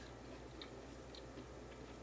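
Chewing on crunchy broccoli that was quickly pan-cooked in a hot pan with a little seasoning, heard as soft close-up crunches and bites repeating at a steady pace over a faint low hum, with no talking.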